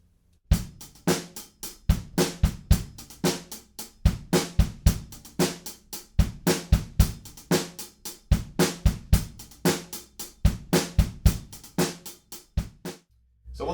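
Drum kit playing a verse groove for the 5 Seconds of Summer song She's Kinda Hot, with added kick drums and busy 16th-note hi-hats, a steady driving rhythm played solo and up close for about thirteen seconds.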